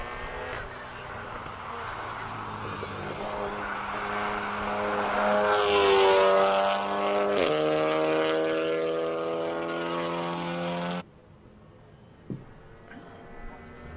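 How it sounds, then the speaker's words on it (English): A Volkswagen Golf 7R engine revs hard at a hill climb with a rising exhaust drone, shifts pitch mid-run, then cuts off abruptly, leaving quiet background with a few faint knocks. "every person who's got a Golf just has funny noises coming out of the exhausts"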